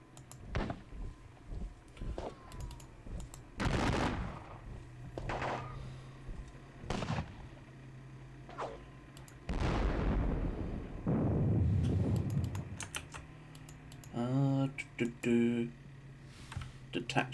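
Musket volleys crack and rumble in a Napoleonic war video game, with several separate bursts of varying loudness spread among clicks, a low droning background and a short rhythmic sound near the end.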